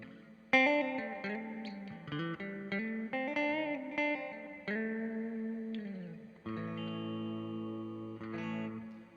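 A Gibson SG Special electric guitar played through an amplifier with slow reverb, ringing chords and single notes with long lingering tails, close and fairly loud, no talking.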